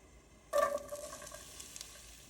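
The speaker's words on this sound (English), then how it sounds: "We're gonna add our onions. We're gonna cook them for about 5 minutes till they're clear." Onions tipped into hot avocado oil in a skillet burst into a sudden loud sizzle after a quiet moment, then settle into a steady crackling fry with light stirring.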